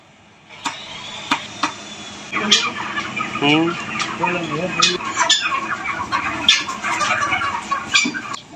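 Chickens in a poultry farm shed fitted with green mats and water-spray pipes for summer heat, a flock clucking and squawking close by in irregular bursts with a few sharp knocks, loud and continuous after a quiet start.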